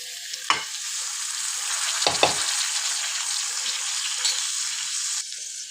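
Ivy gourd (dondakaya) frying in hot oil with onions, a steady bright sizzle throughout, with a few louder stirring scrapes of the spoon in the pan.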